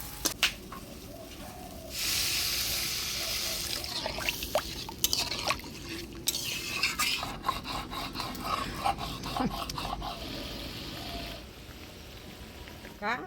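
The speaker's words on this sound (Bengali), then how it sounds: "মাংসটা আমি ভালোভাবে কষিয়ে নিলাম এবার জল দেব" Water is poured into a pan of meat cooking in a village kitchen. It brings a surge of steady rushing and hissing, followed by scraping, knocks and liquid splashes as the pan is worked.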